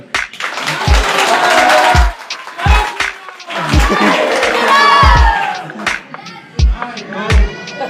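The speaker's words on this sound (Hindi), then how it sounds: "मेरे एक बार गांव वालों के लिए तो आपस में ताली बताओ यार" Villagers clap and cheer together in a loud, uneven burst of crowd noise, with sharp thumps breaking through and voices calling out over the applause.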